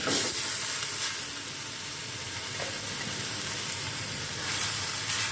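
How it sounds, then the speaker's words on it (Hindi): Two medium onions, chopped, sautéing in oil in a pan for a sauce: a continuous close hissing sizzle that swells at the start and again near the end, with no voices. "इसको थोड़ा सौते करके थोड़ा सा लाइट सॉफ्ट हो जाएगा ये"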